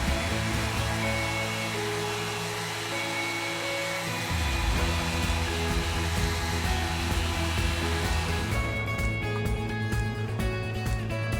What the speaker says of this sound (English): When sanding, it's always best to step up the grits. I begin with 80 grit and work my way up to 220.